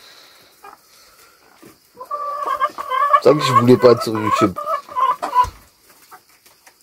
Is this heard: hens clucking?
yes